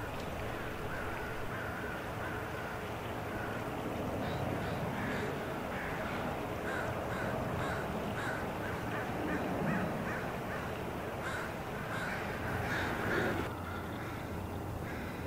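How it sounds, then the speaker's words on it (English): Crows feeding on shellfish along a beach exposed at low tide call with repeated harsh caws scattered across the scene, moderately distant, over a steady wash of surf and outdoor noise. "a feast for crows who are adept at opening the shells to get at one of their favorite foods"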